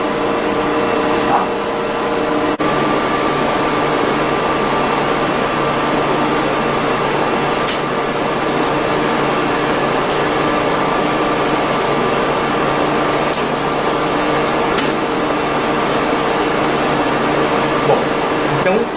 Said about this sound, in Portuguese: eu vou ligar aqui o fluxo de PBS do equipamento